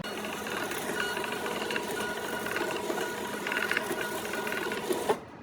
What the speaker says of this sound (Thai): เดี๋ยวเราสั่งพิมพ์ดูนะคะ